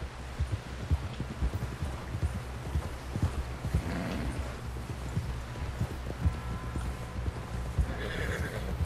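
Horse hooves clip-clop steadily at a walking pace in Red Dead Redemption 2, close and moderate, with occasional snorts over an outdoor ambience.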